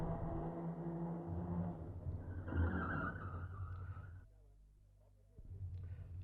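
A car with failed brakes skids to a halt against a rock in a Hindi radio drama, a long loud engine roar and tyre screech running for about four seconds before cutting to a quiet pause, then low rumble returning.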